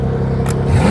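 A car engine with a bad exhaust roars to life close by, a brief burst followed by a deep rumble that climbs into a loud rev, with no voices.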